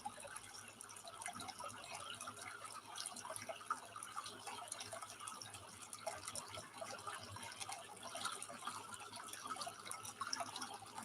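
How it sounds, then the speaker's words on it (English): A gently rushing stream gives a faint, continuous trickle and patter of water, quiet and even throughout, with no other sounds. "To have your feet in the gently rushing stream"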